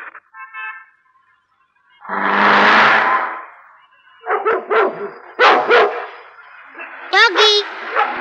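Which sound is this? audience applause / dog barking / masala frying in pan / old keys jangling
dog barking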